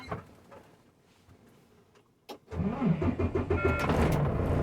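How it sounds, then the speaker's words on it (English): A manual-transmission truck's engine cranks briefly after a few faint clicks, then catches and settles into a loud, steady idle that runs to the end. "You're going to push your clutch in and start your truck up."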